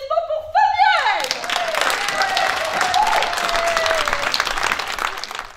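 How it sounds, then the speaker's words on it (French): An audience bursts into applause for a volunteer named Fabienne at a comedy show in Colayrac, dense clapping and some cheering taking over after a short tonal musical sting and continuing steadily. "Un tonnerre d'applaudissements pour Fabienne."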